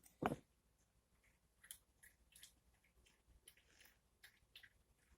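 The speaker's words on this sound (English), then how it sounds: "My dog decided he wanted to come over and get a drink of water" A dog laps water from a bowl nearby, a faint, irregular patter of small wet clicks after one louder knock at the start.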